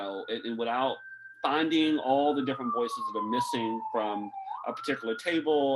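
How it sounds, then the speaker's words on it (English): A siren wails in the background, a single tone sliding slowly downward then rising again, steady and moderately loud beneath a person speaking continuously in the foreground. "sorry for the siren in the background"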